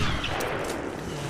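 Rapid gunfire bursts in the video game Resident Evil Revelations, dense and loud, with crackling three-round charged shots layered over a low rumble.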